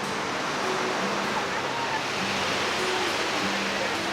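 Sea waves at Digha beach roar in a constant, loud wash of surf, broad and unbroken, with faint crowd sounds blended in.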